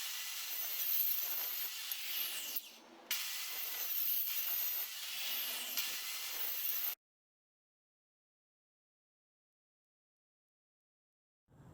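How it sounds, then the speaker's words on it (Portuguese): Pallet wood being cut with a saw makes a loud, continuous high-pitched buzzing rasp for about seven seconds, broken once by a short pause, then cuts out abruptly into silence. "Depois de todo o trabalho de serrar essa madeira"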